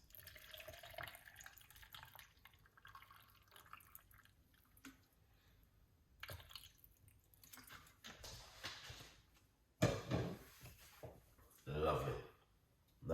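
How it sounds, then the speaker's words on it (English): Water is poured from a tap into a blender jug, a faint trickling and splashing that comes in short bursts and grows louder near the end, with a person talking over it. "we're going to put some water into it"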